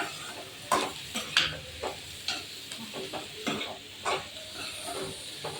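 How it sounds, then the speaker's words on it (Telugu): Ridge gourd curry with onion being stirred in a pan, a spoon scraping and clacking in irregular strokes over a steady low sizzle, close and alone with no talk. "ఇలా అయితే ఇది కలుపుకోవాలి, లేదంటే మాడిపోతుంది కొద్దిగా."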